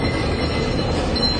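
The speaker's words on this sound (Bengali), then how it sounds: "ট্রামের ঘন্টা বাজল।" A running tram as a sound effect in a Bengali audio drama, a loud, close rumble of wheels on rails with a steady metallic drone and squeal, no voices.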